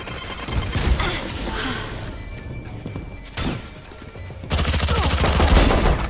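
Gunfire from a shooter video game on Indian/Singapore servers: dense bursts of shots and rattling fusillades run through most of the stretch, with a brief lull midway before a heavier, louder volley near the end.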